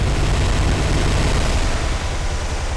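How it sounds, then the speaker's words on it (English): Bombs going off in the World War II naval game War on the Sea, a steady, loud, dense low rumble of explosions and blast noise that fills the whole stretch without pause. "we'll drop the bombs and see what happens"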